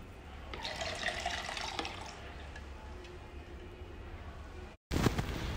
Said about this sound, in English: Now we inject the water.